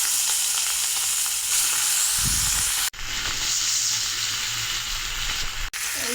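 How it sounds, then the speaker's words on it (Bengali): Hilsa fish coated in turmeric and salt frying in hot oil in a wok, a steady broadband sizzle and crackle with a brief bubbling surge as the fish goes in, loud and close with no talk. "কড়াইতে আগেই তেল দিয়ে দিয়েছি, এখন হলুদ লবণ মাখা মাছ দিয়ে দেবো"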